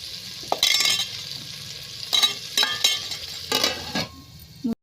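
Crab pieces with onions and turmeric frying in a pan for crab curry, stirred in several bursts of scraping and clinking over a steady close sizzle, pausing briefly between strokes and stopping abruptly at the end.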